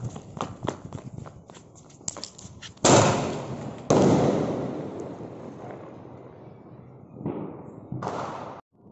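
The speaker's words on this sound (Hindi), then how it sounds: "अब टेस्टिंग करते हैं सोनी ब्रांड के सिंगल स्काई शॉट का।" A Sony brand single sky shot firework is tested outdoors: a few small pops and crackles, then two loud bursts with long sizzling decays, and a final shorter burst near the end.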